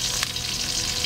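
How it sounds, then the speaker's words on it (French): Chopped onion with oil and salt frying in a saucepan, a steady close hiss and crackle of sizzling that runs the whole time without talk. "nous mettons vraiment un peu d'oignon, un peu d'huile et du sel. Voilà, que nous faisons revenir dans une casserole."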